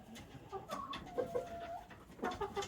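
A hen cackles and clucks in a winter farmyard, a few short calls and drawn-out notes up close, with quiet rustling between them and no voices.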